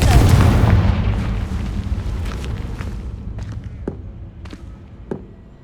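Confringo spell explosion in the Hogwarts Legacy video game: a heavy close boom that rolls off into a long rumbling decay, followed by several sharper scattered thuds and cracks.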